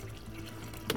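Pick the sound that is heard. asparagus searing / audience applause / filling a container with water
filling a container with water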